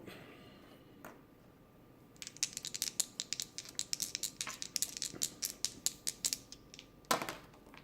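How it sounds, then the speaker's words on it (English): Dice for the Street Masters board game rattle and clatter in a quick run of sharp, close clicks that continue for several seconds after a couple of isolated taps, with no talking. "I roll 2 red dice."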